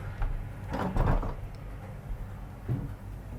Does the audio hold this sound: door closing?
yes